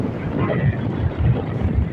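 Strong outdoor wind roars and buffets the microphone at a project work site, a loud, steady low rumble that lasts the whole moment.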